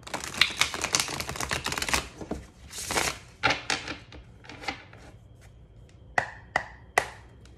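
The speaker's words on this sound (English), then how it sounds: "Let me just shuffle the cards one time." Tarot cards riffle and flutter in quick bursts, then slow to a few sharp taps and slaps as the deck is squared, with no talking.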